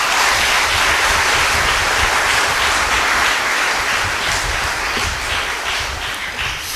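A church congregation at a Hindi-language Christian service bursts into sustained, dense applause, loud and steady throughout with no voices over it.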